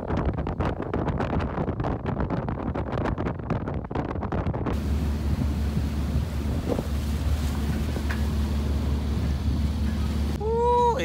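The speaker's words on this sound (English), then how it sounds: "Ooh, it is so windy." Heavy wind buffets the microphone with loud rumbling gusts on a catamaran heading to windward in about 30 knots, then a steady engine drone and rushing, choppy water noise continue; a brief high squeal near the end.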